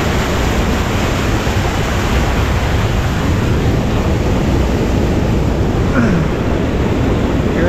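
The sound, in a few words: strong current of the Mapalyao waterfall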